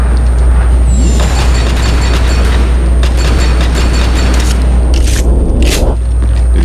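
Booming gunfire from the Army of Two shooter game rings out over a constant low rumble, with a few sharp bursts toward the end of the stretch.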